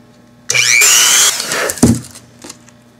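A power drill bores a hole through a painted wooden heart craft, a loud high whine lasting under a second, then a lower grinding burst and a few brief taps and knocks as the bit finishes.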